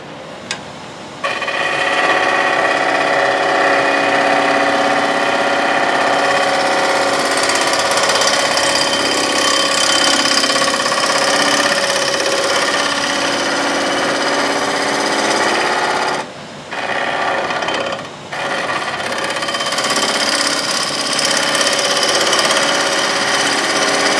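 A bowl gouge cuts wood spinning on a lathe, making a loud continuous rough rasping whir that breaks off twice briefly before resuming, close up with no talking.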